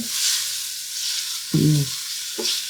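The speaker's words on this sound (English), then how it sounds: "we're gonna saute this just till it softens a little" Carrots sauté in a Dutch oven with a low hiss. Two short bursts of spoon scraping and stirring stand out against it.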